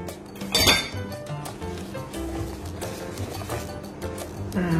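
Bika Ambon batter is stirred in a pot, with a spoon clinking and scraping against the metal in an irregular rhythm, one louder knock early on, close by and without talk.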